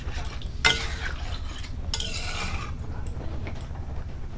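Spoon stirring mutton curry with potatoes in a cooking pot, scraping and clinking against the metal in a few irregular strokes over a low simmering hum, close and fairly loud.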